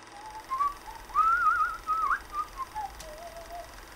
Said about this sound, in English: What you doing? Whistling.